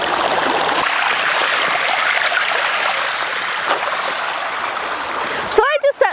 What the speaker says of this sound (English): you want to take your tray and fill this up with water